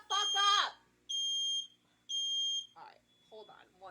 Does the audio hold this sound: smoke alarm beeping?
yes